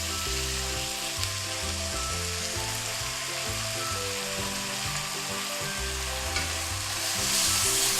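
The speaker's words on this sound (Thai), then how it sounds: "ก็ผัดให้เข้ากันนะคะ" Misua noodles are stir-fried in a hot pan, a loud steady sizzle with scraping stirring strokes throughout, near and continuous.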